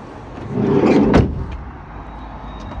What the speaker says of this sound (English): It's a six door model, so it's got sliding doors to both sides